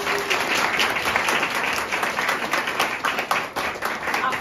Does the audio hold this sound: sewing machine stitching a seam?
no